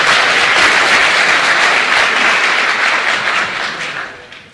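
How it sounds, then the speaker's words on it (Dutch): Loud, dense applause from a school audience at a Technasium Meesterproef presentation, a steady wash of clapping that holds for about four seconds and then tapers off. "Geef hem een heel hartelijk applaus."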